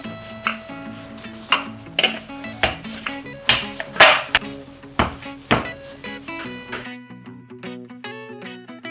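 Parotta dough being beaten by hand in a kitchen, a series of sharp slaps and thuds roughly every half second, loud and close, then lighter rhythmic taps toward the end with no talking.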